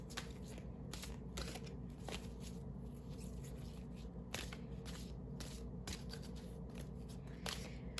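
A deck of tarot cards is shuffled by hand, with soft, steady riffling and papery crackle running continuously, punctuated by a few sharper snaps of cards striking together, close and fairly quiet.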